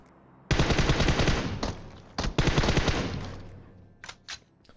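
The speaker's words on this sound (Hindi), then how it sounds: "गोली चला रहा हूं, सारी गोली फट्टे पे लग जाती है" Automatic gunfire in the mobile game PUBG Mobile: a loud, rapid rattling burst lasting over a second, a short pause, another long spray that fades out, then two brief distant shots.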